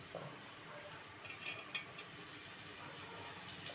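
Onion fries in a pan with a faint, steady sizzle and light crackle while nalleru stem curry is being cooked, with occasional soft stirring clicks, close but quiet.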